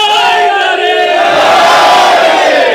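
A crowd at a Jashn e Risalat gathering raises slogans together, a loud massed chorus of voices swelling in a sustained unified shout close by.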